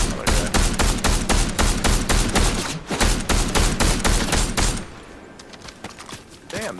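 Rapid bursts of blaster-style gunfire in a Star Wars shooter, loud and close with a steady rattling rhythm for several seconds before dropping off, followed by a few scattered fainter shots.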